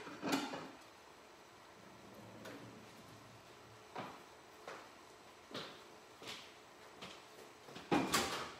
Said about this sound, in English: Helps if I get the plate out of the drawer.